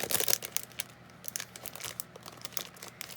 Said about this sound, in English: there's going to be just a little bit of some crinkling.